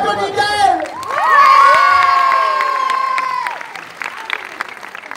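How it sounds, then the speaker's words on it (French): An audience at a film preview event in Lyon Brignais cheers and applauds as a woman from the film is called up, with loud whoops and shouts over clapping that swells then fades. "On applaudit Gaëlle!"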